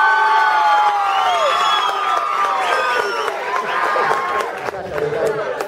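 At a graduation party awards ceremony, a crowd cheers for a prize winner with loud whoops, high shouts and a little clapping. The noise is dense and sustained throughout, with many overlapping voices.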